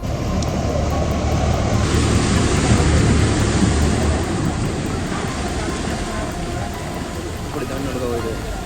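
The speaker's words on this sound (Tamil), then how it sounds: "அப்படி மழை பெய்து கொண்டிருக்கிறது" Heavy rain pours steadily during a flood in Jaffna, a dense continuous hiss with a low rumble throughout, loud and close.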